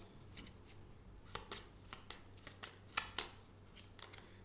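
Soft riffling and flicking of a deck of oracle cards being shuffled for a tarot reading, a quiet run of irregular papery snaps close by.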